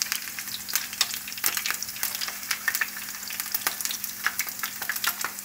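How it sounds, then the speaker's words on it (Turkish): Potato pieces fry in hot oil in a pan, a steady, close sizzle with sharp crackles and pops scattered throughout and no voices. "Yani çok fazla değil, az bir kızartma yapacağız"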